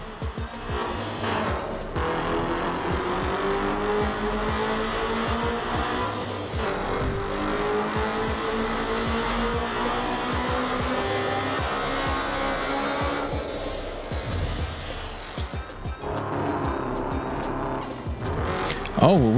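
Engine drone and repeated tire squeals from a car in the racing video game Night Runners, a continuous revving hum with sliding screeches throughout and a voice talking over it.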